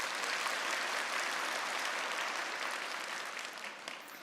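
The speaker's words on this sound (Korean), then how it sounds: "박수 한번 부탁드릴게요" An audience at a product presentation of a toothbrush claps in sustained, dense applause that stays steady and close, tapering slightly toward the end with no talking over it.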